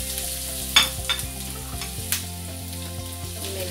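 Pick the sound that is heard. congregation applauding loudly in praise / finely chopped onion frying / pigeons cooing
finely chopped onion frying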